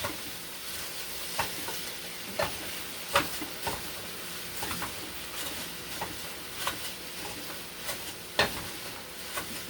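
Food sizzles steadily in a hot pan while a utensil scrapes and stirs at irregular intervals, close and fairly loud, with no talking.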